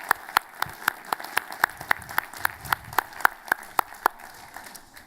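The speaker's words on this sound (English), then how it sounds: "Let's give them a round of applause as well." Applause at a 2019 Washington University commencement ceremony for the concert band: sparse, distinct claps at a steady pace, a fairly faint patter from only a few pairs of hands with no voices.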